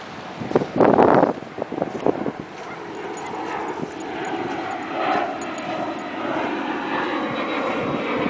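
A jet flying high over an overcast Ocean Beach dog beach in San Diego, California, a broad steady roar under wind noise, with a dog and brief loud bursts near the start.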